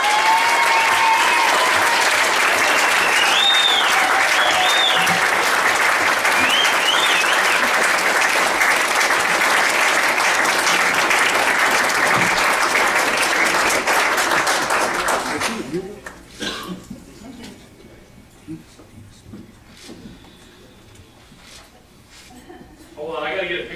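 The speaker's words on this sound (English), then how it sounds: "Please join me with a big round of applause for our next inductee" Audience applause for a hall of fame inductee at a California State University, Chico ceremony: loud, dense clapping from a large crowd holds steady for about fifteen seconds, then dies away into scattered claps and quiet room noise.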